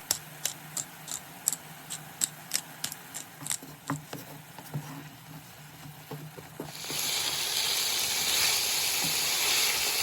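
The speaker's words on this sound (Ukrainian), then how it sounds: "Додаю сіль, перець за смаком і тушкую далі" Mushrooms stewing in a pan as their water cooks off: soft irregular pattering and ticking pops at first, then a steady loud sizzling hiss takes over for the rest, with no talk.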